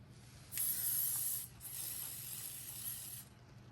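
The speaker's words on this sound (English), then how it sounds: "And then take your firm hold hairspray" Firm hold hairspray hisses from an aerosol can onto a tinsel gnome in two close bursts, the first about a second long and the second a little longer and slightly softer, with no speech.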